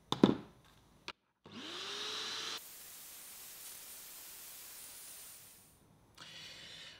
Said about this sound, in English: then use the vacuum to remove them